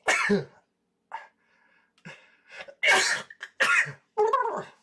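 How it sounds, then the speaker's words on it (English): A person coughs and clears their throat in several short, close bursts separated by brief silences, with a few harsh, sneeze-like explosive sounds among them. "Jeez, coughing, sneezing, everything today."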